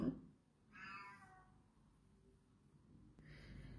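A cat meows indoors, one faint, drawn-out call near the start and another brief cry at the end, with quiet room noise between.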